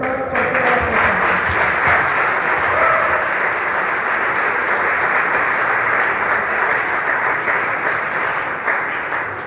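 A seated audience gives a doctor a sustained, dense round of applause after his presentation at a center event, loud and even throughout, with faint voices underneath.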